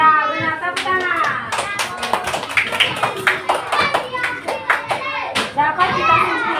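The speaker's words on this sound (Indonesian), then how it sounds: "Tepuk tangan." A classroom full of children claps their hands together during a primary-school lesson, a burst of quick, uneven, overlapping claps that runs steadily and fairly close, mixed with excited children's voices throughout.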